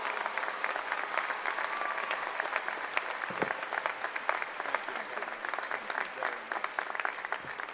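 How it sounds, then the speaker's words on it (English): Commencement crowd applauding at the end of a speech at a university graduation ceremony, a broad, steady wash of many hands clapping, fairly distant and even for several seconds. "Another round of applause for the Honorable Carmen M. Ortiz, class of 78."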